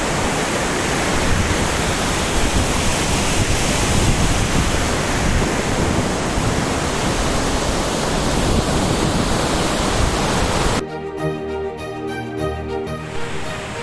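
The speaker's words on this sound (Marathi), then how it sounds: "इथं तुम्हाला या बाजूला धबधबा दिसेल" A waterfall near the Siddheshwar temple in Saswad roars as a loud, dense, unbroken rush for about eleven seconds before music takes over.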